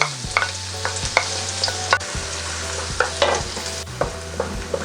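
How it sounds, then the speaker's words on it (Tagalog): Garlic sautéing in hot oil in a pan, a steady sizzle punctuated by frequent sharp clinks and scrapes of a utensil stirring, over sustained musical tones. "Ngayon po ay pwede na nating igisa yung ating bawang"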